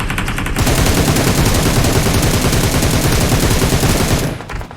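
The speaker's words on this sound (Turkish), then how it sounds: "Vurdum buradan." Loud, sustained automatic gunfire from PUBG Mobile, a dense rapid rattle of shots that runs almost without a break for about four seconds before cutting off.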